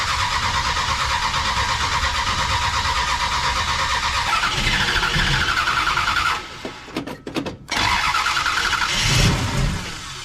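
A muscle car's engine runs loudly, then sputters and briefly cuts out before catching and revving again, close by; the engine has a fault that keeps it from staying running.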